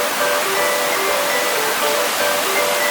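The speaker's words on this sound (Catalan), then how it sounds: "la cascada" The Fonseca waterfall roars in a loud, unbroken rush of falling water close by, steady and full with no pauses or voices.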